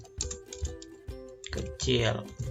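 Typing on a computer keyboard while entering an Excel formula, with the Enter key pressed: several close, crisp key clicks in an uneven rhythm, partly under a person talking.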